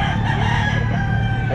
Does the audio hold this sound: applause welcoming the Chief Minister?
no